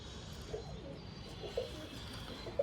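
Faint, soft coos from a yellow-banded male pigeon come a few times, spaced apart against a low, quiet background hum.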